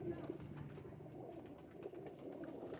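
Pigeons coo softly in a loft where birds are kept for sale, a low murmuring bed of calls running steadily throughout at moderate distance, with faint background activity.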